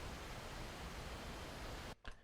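A synthesizer layer of plain white noise meant to mimic hardware feedback, a steady dense hiss held for about two seconds before cutting off abruptly.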